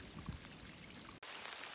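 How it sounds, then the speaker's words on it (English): Rain falls steadily on the Appalachian Trail near Maupin Field shelter, a faint, brief, broadband patter and hiss with a sharp drop-out midway, close to the listener. "Well, the rain's caught up to me."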